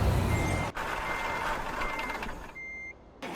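A used truck backing up in American Truck Simulator gives a steady reversing beep over a loud, close diesel engine rumble, broken by a brief dropout, with the engine continuing throughout.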